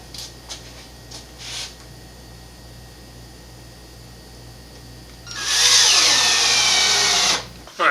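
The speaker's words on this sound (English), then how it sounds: "Now I'm going to go ahead and screw in the pegboard to the 2x4s." A power drill drives a screw through pegboard into 2x4 lumber on a workbench build, a loud whining burst of about two seconds that follows some quiet handling taps.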